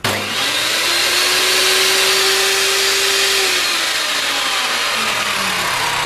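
An Einhell TC-TS 2025 table saw runs continuously at close range, a loud steady motor whine with a broad whooshing blade roar that holds evenly throughout.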